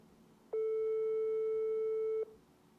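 A single long, steady telephone ringback tone sounds for under two seconds on a call to a mother that goes unanswered, clear and alone against quiet room background.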